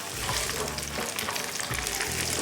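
Food frying in a pan hisses steadily while it is stirred around to coat, with a dense, even sizzle and soft scraping throughout.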